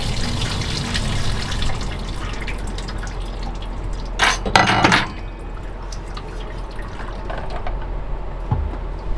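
Cooked sausage, mushrooms and onions are tipped to drain, liquid dripping and trickling steadily with a louder pouring splash near the middle, close and fairly loud over a low steady hum.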